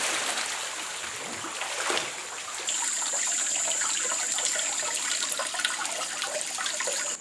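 A waterfall in the Amazon jungle near Monte Alegre roars steadily as a continuous broadband rush of falling water, with a constant high insect whine joining partway through and no voices.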